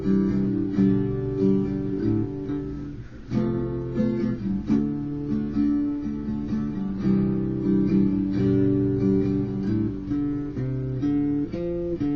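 Guitar chords played up close, ringing and sustained, moving through a chord change into a D with steady strummed and picked notes and no talking.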